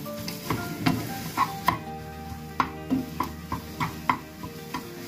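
A spoon scrapes and taps in a pan in a steady rhythm while spiced potato masala for dosa is stirred and mixed, with faint sizzling underneath, close by.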